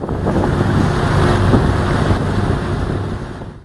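A municipal sea-surface cleaning boat under way on İzmit Gulf, its steady engine and water rush heavily buffeted by loud wind noise on the microphone throughout, with no voices.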